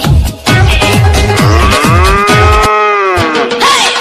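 A cow moos loudly and close by, a long drawn-out low call over a rough, busy background with rhythmic low thumps.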